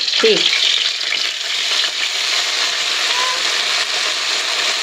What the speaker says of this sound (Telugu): ఇప్పుడు ఇందులో నూనె అయితే కాగిపోయింది. ఇందులో మనం ఆకు వేస్తున్నాం.